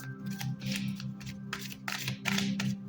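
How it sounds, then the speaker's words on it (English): Cards being shuffled up close, a quick series of papery riffles and snaps with short pauses between bursts, no voices. "One last shuffle."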